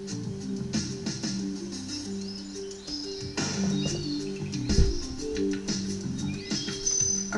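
Many birds chirp and call in the Manu tropical rainforest, a dense layered chorus of tweets and whistles over steady insect-like hum, some calls close and others farther off.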